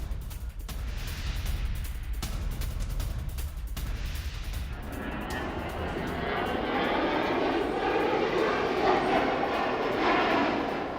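A Russian Su-34 bomber jet roars past, a loud continuous engine rush that swells and broadens in the second half, with no talk over it.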